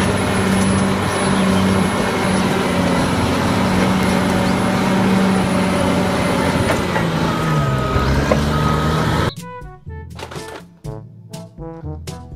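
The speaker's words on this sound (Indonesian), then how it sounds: "bulldozer." A heavy bulldozer engine drones and grinds close by for about nine seconds with a steady low rumble and a high whine, then gives way abruptly to cheerful music.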